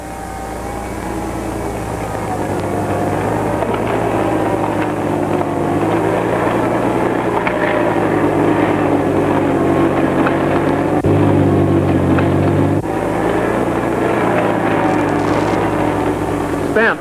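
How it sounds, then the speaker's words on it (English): A vintage Chrysler Power Wagon truck's engine drones steadily throughout, with a constant rumbling roar and the gritty, grinding texture of plows scouring desert soil layered over it, close and continuous. "listening to the drone of the truck motor and the desert soil scouring on the apron"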